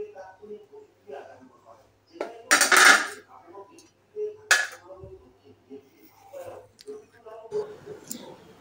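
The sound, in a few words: spoon scooping gel out of aloe vera leaf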